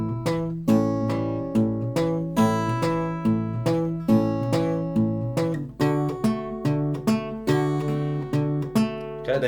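Acoustic guitar plays a steady Travis-picked 12-bar blues pattern, with plucked bass notes and chord tones ringing close and clear, no voices.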